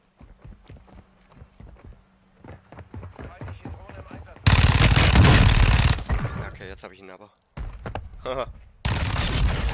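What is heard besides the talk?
gunfire in the video game Warzone 2.0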